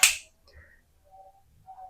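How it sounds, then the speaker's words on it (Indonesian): A single sharp finger snap during a card trick, close and crisp at the very start, followed by near silence with faint background murmurs. "Sekarang gue jentikan jari seperti ini."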